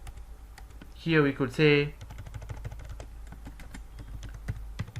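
Rapid clattering computer keyboard typing while writing C code, steady and close, with a person speaking briefly over the start of the keystrokes.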